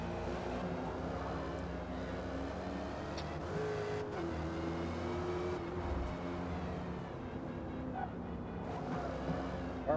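A generic inline-four engine sound in a racing video game drones and shifts pitch steadily, loud and continuous.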